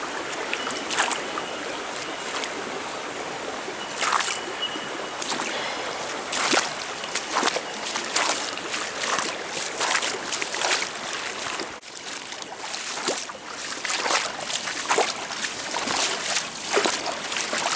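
River water in Ewingar State Forest flows and trickles steadily in the foreground, with small splashes recurring throughout, after a week of heavy rain.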